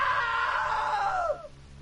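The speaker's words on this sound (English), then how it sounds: "Now that was a great scream." A loud, sustained human scream holds strong for over a second, then bends downward and fades out, leaving a low background hum.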